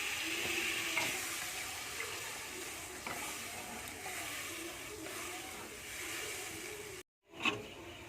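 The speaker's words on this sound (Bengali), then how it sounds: "আর পরিমাণ মতো জল দিয়ে দেবো" Water is poured into a pan of frying spice paste for a Bengali fish curry, giving a steady hissing, bubbling wash that runs for several seconds, briefly cuts out, then returns with a short splash.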